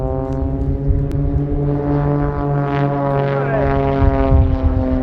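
Blades aerobatic team propeller aircraft pulling up into the vertical at an airshow, a loud steady droning engine tone with strong harmonic bands that shift in pitch as the planes climb, close and continuous.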